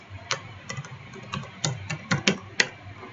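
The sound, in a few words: typing the tasklist command on a computer keyboard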